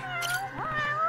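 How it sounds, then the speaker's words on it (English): A cat in the video game Judgment gives a couple of short, close meows, with a steady game background hum beneath them and no talking. "Oh, look, a cat."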